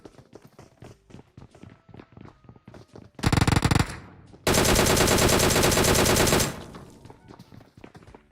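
Automatic gunfire in the PUBG Mobile video game: a short loud burst of rapid shots, then a longer sustained stream of fire lasting about two seconds. People speak in the lead-up.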